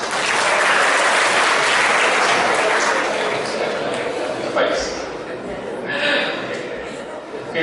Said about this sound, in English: Clap in front please.